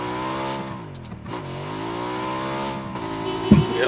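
A car engine in PUBG revs steadily with shifting pitch throughout, rising in loudness, then a sharper engine surge near the end, with no talk over it.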